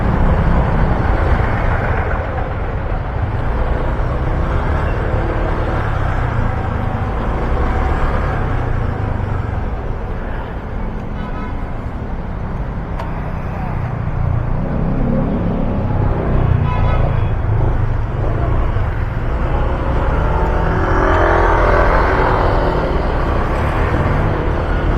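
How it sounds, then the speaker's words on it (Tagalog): Steady street traffic on Romualdez Street in Manila: a continuous, loud rumble of car and vehicle engines heard from inside a vehicle, with no talking. "Ito lang yung traffic yan."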